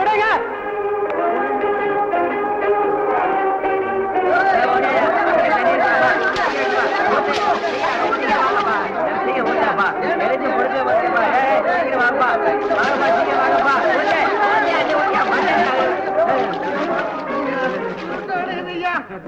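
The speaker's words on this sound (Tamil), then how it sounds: "தேட்டர் தீ பிடிச்சி எரியுது. எல்லாம் ஓடாங்க ஓடாங்க ஓடாங்க." A loud, dense crowd with many voices shouting and chattering at once, a steady agitated hubbub that never lets up.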